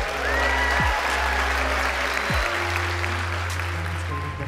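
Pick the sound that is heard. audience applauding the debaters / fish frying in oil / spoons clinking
audience applauding the debaters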